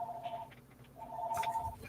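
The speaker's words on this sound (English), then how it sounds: "I'm going to ignore that telephone ringing because we're not open yet" A telephone rings indoors in a comic book shop, two warbling electronic bursts separated by a short gap, moderately loud and heard on its own.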